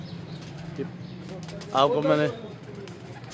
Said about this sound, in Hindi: कबूतर आ रहा है, कबूतर आ गया और ये एक आ गया